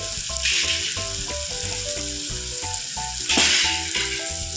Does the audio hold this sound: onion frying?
yes